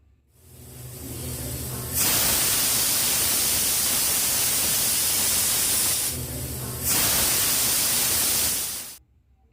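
Loud, steady hiss of steam venting from a pressure cooker whistle in two long sustained blasts separated by a short quieter gap, close by.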